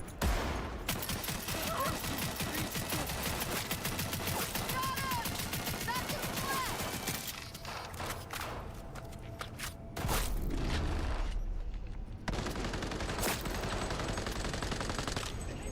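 Gunfire in the video game Cyberpunk 2077, rapid bursts of shots with heavy recoil mixed with footsteps and thuds, dense and continuous with a louder stretch later on.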